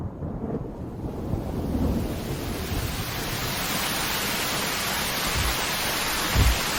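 Heavy rain in the animated film Spirited Away pours down as a dense, steady roar with low rumbling swells, continuous and loud throughout with no voices.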